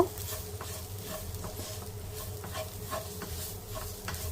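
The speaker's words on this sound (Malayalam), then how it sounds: "മസാല ചേർത്ത ശേഷം തീ മീഡിയം ഫ്ലെയിമിൽ വെച്ച് നമുക്കിത് നന്നായിട്ടൊന്ന് വഴറ്റിയെടുക്കാം" Masala is sautéed on a medium flame for a Kerala-style squid roast. A soft, even sizzle runs under repeated scraping stirs of a spoon through the thick paste, heard up close with no talking.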